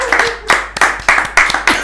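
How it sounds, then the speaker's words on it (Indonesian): An audience at a quiz show claps in several quick bursts, each swelling and fading, with a faint voice underneath. "Tepuk tangannya dong"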